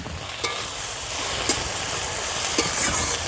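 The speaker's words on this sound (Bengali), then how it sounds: "শাকের সঙ্গে ভালো করে মিশিয়ে নেব" Red amaranth greens and small fish stirred together in a pan, with a continuous wet sizzle and a few sharp spatula scrapes against the metal, close and steady.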